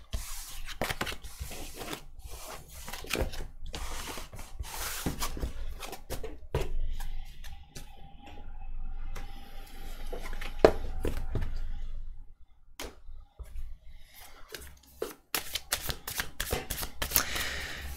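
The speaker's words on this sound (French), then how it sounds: "Alors, je ramasse d'abord les cartes." Tarot cards being gathered and shuffled by hand, with dense, close riffling and sliding card noise throughout and a brief quieter stretch of soft scraping partway through.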